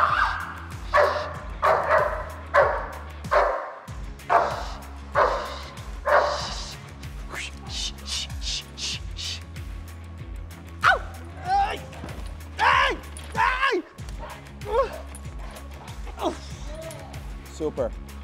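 A little puppy barks and yips in short bursts during a protection dog training session, close and fairly loud, with people talking and calling encouragement over it.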